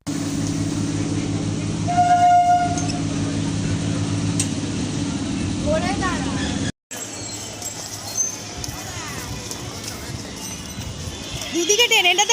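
Trains roll past on both sides with a steady low rumble and a brief horn-like tone, while people talk loudly over it throughout.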